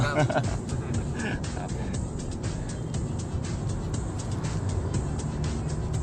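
A Toyota Yaris top-trim model's engine runs steadily while the car drives, producing a smooth, continuous low drone. Road and cabin noise sit beneath it, and someone talks over the sound throughout.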